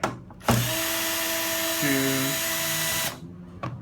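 A power screwdriver whirs steadily for about two and a half seconds, shifting pitch partway through, as screws are backed out of a C14 power-inlet enclosure, with brief handling noises before and after.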